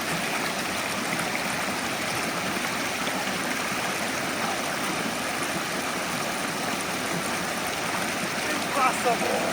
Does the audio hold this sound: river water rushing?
yes